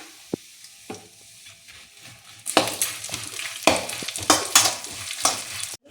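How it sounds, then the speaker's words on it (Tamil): Puffed rice fries and is stirred in a pan over low heat, a quiet start with a few knocks giving way to steady crackling sizzle and repeated scraping stir strokes, close and without talk. "குறைஞ்ச தீயில் வச்சு வருங்க, அப்போ தான் தீயாமல் நல்லாயிருக்கும்."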